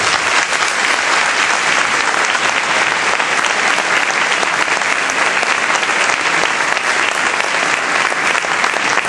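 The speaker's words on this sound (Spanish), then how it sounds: "Con este merecido aplauso le volvemos a dar nuestro más sincero reconocimiento." Sustained, loud applause from a school graduation audience honouring the teachers at IES Cerro Milano, a dense steady clapping crowd that runs unbroken for the whole stretch.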